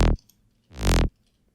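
Psytrance bass synth, dry and without high-end compression, plays two separate notes: a short punchy hit, then after a brief pause a longer, fuller sustained note that cuts off abruptly, with near silence around them.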